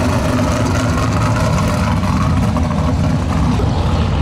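American car engines roar at a drag race, a loud, continuous, dense low rumble with steady engine noise throughout and no pauses.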